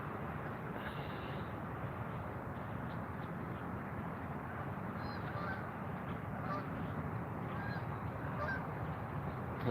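A flock of geese honks steadily outdoors during early-morning trout fishing, a dense, continuous chorus of calls at moderate distance with no talking.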